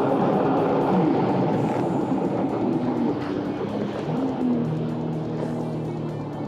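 A 2024 Sea-Doo RXP-X 325 jet ski accelerates at full throttle, its engine roaring loud, close and continuous throughout without any talking.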